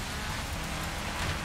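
Steady rain hisses during a race in the Forza Horizon 4 racing game, a dense, even wash of drops on surfaces that stays constant throughout with no voices over it.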